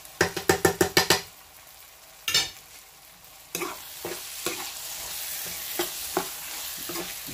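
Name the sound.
tomato paste frying and being stirred in a pan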